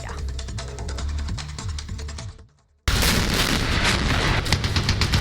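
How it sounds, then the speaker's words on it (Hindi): Loud, dense bursts of explosive gunfire and booms from a tank attack on Ukrainian military sites, a rapid rhythmic barrage that breaks off briefly before an even louder, continuous roar of blasts and crackling fire resumes. "धमाका इतना जबरदस्त था कि जमीन से आसमान तक धुआं ही धुआं दिखाई दे रहा है"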